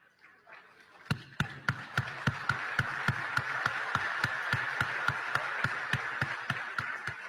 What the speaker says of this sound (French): pour nous donner un encouragement avec applaudissement